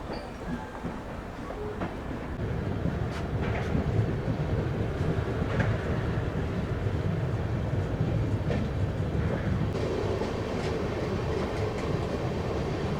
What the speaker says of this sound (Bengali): আমাদের ট্রেন এখন ওভারটেক দিচ্ছে হাওড়া মালদা ইন্টারসিটি এক্সপ্রেসকে।